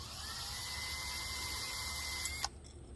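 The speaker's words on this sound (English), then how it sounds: "So now I'm just going to take my drill and we're going to start twisting." Cordless drill spinning to twist wire for an electroculture antenna, a steady high motor whine running for over two seconds before cutting off abruptly, then quiet background.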